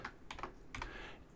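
Typing on a computer keyboard, a short run of crisp, close key clicks in two small clusters over a quiet background hum, with no talking.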